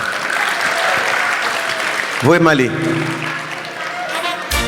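Sustained crowd applause at a memorial gathering fills the whole stretch, loud and steady, with a voice briefly speaking over it midway before the clapping carries on.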